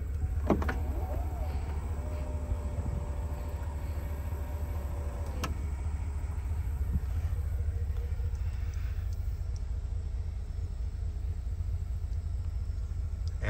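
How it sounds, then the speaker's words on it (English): A steady motorized whine runs for several seconds as a new Cadillac Escalade's automatic lift gate moves, starting with a click and ending with a thunk over constant low engine rumble. "Automatic lift gate."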